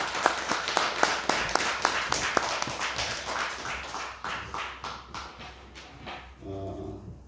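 A church congregation claps at a Christmas service, a brisk run of sharp, fairly near hand claps for several seconds that thins and fades out toward the end.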